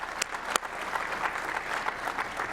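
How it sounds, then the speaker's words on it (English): Audience applause at a fireside chat on energy and the economy, moderate steady clapping from a seated crowd, a couple of sharper claps early on. "A round of applause."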